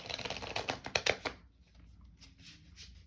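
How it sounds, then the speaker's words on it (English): Tarot cards shuffle in a quick riffling burst of crisp, rapid flicks, then a softer pause and a few lighter shuffles, close and alone with no talk. "Just going to shuffle a few more times till it feels right."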